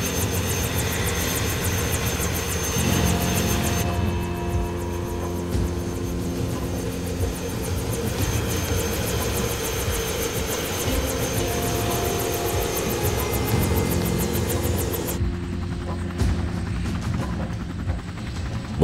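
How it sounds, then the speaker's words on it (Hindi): A helicopter roars loudly and steadily with a dense engine and rotor drone as it takes off and flies, the sound shifting and thinning near the end as it pulls away. "वो लोग बैठ गए हैं, हेलीकॉप्टर उड़ चुका है।"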